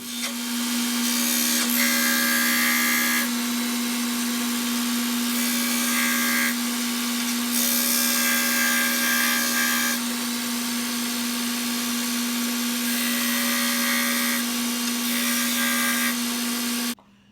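A power tool chamfers the wooden parts of a stitching pony, giving a loud continuous close whine with a steady hum that rises in pitch and harshness whenever the cutter bites the wood, then stops abruptly at the end.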